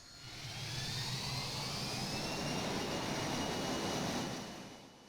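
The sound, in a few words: airliner jet engines roaring at takeoff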